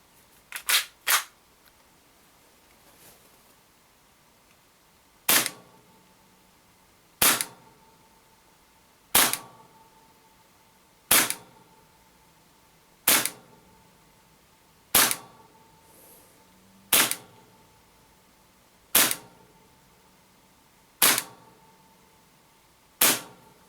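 A Tokyo Marui FN 5-7 gas blowback airsoft pistol on green gas fires 0.2 g BBs through a chronograph, giving about a dozen sharp, loud cracks: a quick double shot, then single shots spaced roughly two seconds apart.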